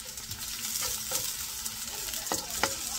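Two cloves of garlic sizzle and crackle steadily in a hot pan, a close, busy frying hiss with a few sharper pops and stirring scrapes, no voices.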